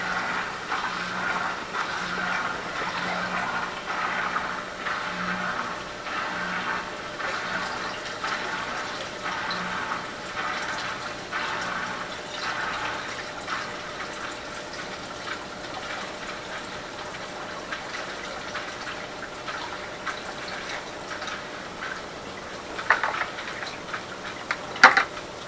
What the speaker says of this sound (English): I'm going to put a little bit more water in it.